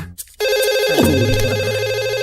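A telephone rings with a loud, clear electronic ringtone in a Telugu comedy film scene. It starts abruptly after a brief quiet moment and then repeats steadily, alone and close.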